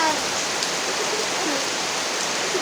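Steady rain pours down, a dense even hiss of drops with no voices, constant from start to finish.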